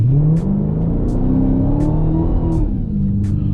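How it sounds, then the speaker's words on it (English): A Dodge Hellcat sits at full throttle in launch mode, engine roaring loudly and steadily with pitch rising slightly, close and continuous, punctuated by regular faint ticking bursts. "Put it in park. Activate launch. Full throttle."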